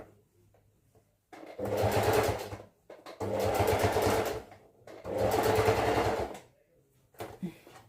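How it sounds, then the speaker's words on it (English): A sewing machine stitches fabric with elastic in three long loud close runs of rapid mechanical whirring, separated by short pauses with faint handling noise. "I'm gonna stitch. Making sure I don't stitch on my elastic."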